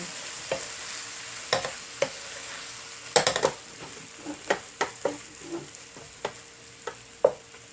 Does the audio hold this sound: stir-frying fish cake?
yes